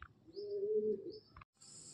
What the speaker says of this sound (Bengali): দাদা খুব ছটপটে পায়রা।